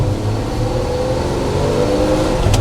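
A 1959 Chevrolet Apache pickup's engine revving as the truck accelerates, a loud, close, steady mid-pitched drone that climbs gradually in pitch with no talking.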